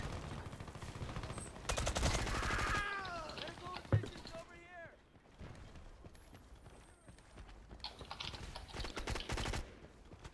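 Video game gunfire rattles in quick bursts of rapid shots, loudest early on and then in scattered shorter volleys, mixed with clicks and voices chattering over game chat.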